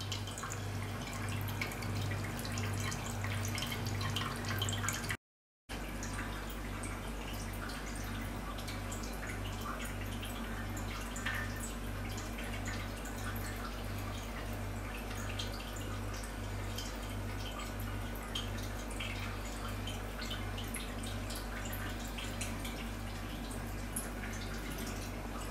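Alcohol drips steadily from the column of a 50 litre batch still during distillation, quiet regular drips over a constant low hum, continuing throughout apart from a brief dropout near the start.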